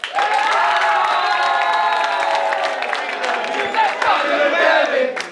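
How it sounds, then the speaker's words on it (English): A crowd at an FC Dallas academy gathering in Frisco applauds and cheers loudly, mixing clapping with shouts and whoops from young players and families throughout. "Hey guys, round of applause."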